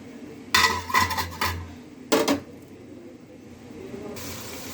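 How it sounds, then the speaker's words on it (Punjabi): A lid goes onto a pot of potato and fenugreek (aloo methi): a few close metallic clanks and clatters, then a brief second clink, with quiet room noise afterward and no talking. "ਹੁਣ ਅਸੀਂ ਇਹਨੂੰ ਢੱਕ ਕੇ ਰੱਖ ਦਵਾਂਗੇ"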